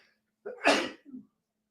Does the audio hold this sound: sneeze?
yes